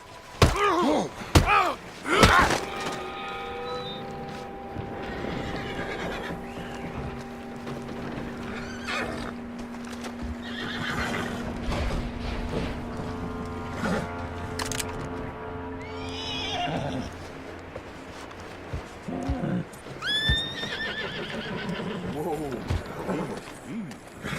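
A horse whinnies loudly with long, wavering cries, mixed with hoof clatter, thumps and people talking nearby, in the video game Red Dead Redemption 2.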